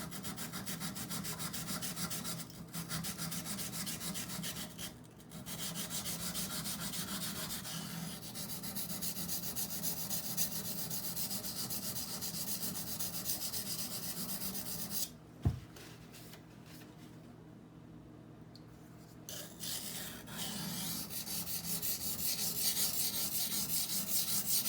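Benchmade Bugout 20CV knife stroked along a Norton water stone, a long run of close, even gritty scraping with brief pauses and a single knock midway.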